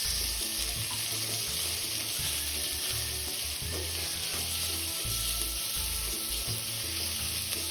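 Shredded meat stir-fries in a pan for a black pepper udon dish, a constant quiet sizzle broken by repeated low scraping and tossing bumps.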